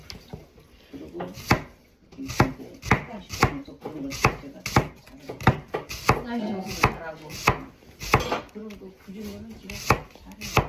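Vegetables are chopped with a knife on a board for kimjang, a steady series of sharp, close knocks spaced about half a second apart, with quiet talk in between.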